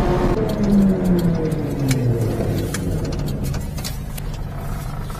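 A mini-truck engine pulls away during a race, loud and close at first and then easing into a steady, slightly fading drone as it gets farther off.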